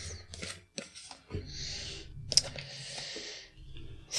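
Tarot cards shuffled by hand in quick riffling and sliding bursts, soft and close, separated by short pauses and a few light taps.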